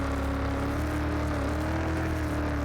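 A Ford truck on off-road tires spins its wheels on the dirt section of a course in Car Mechanic Simulator 2021, giving a steady, fairly quiet engine drone with a faint whir.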